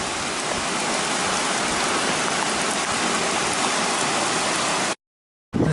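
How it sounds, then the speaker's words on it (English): Steady, dense rain pours down near the White River by Barker Hut in cold, windy weather, a constant loud hiss that breaks off briefly near the end, then returns. "Still raining, been cold, windy, miserable trip down the White River from Barker Hut this morning."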